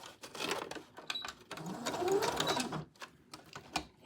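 A sewing machine stitching the side seams of a maxi skirt, a close, continuous rapid mechanical whirr in bursts with brief pauses and clicks between runs.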